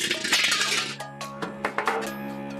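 Metal cooking pots and dishes clink and clatter as greasy pots are scrubbed by hand in a home kitchen, with scattered sharp knocks over a steady tonal background.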